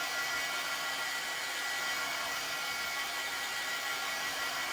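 A hair dryer blows over chalk paste to dry it, giving a steady, even, whooshing hiss that holds at a constant moderate level throughout, with no voices.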